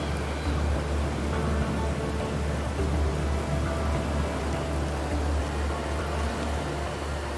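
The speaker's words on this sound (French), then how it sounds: "Et le vent forcit encore." Strong storm wind gusts roar outdoors in a steady, dense wash of noise, loud and continuous with no talk, as contestants hold position on posts.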